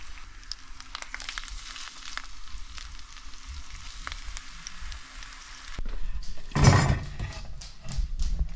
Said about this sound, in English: So we're just gonna sear this wahoo.